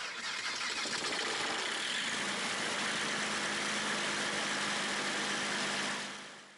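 A small engine on a home-built Raptor aircraft prototype starts and runs steadily with a broad, loud roar close to the microphone, then cuts off at the end.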